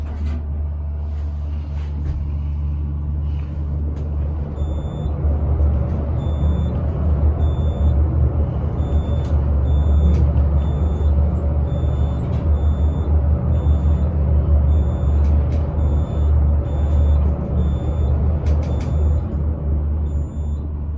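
A Murphy traction elevator at The Brown Hotel in Louisville running fast during a ride, a loud steady low rumble and whir with faint faint clicks and ticks throughout, continuous and close.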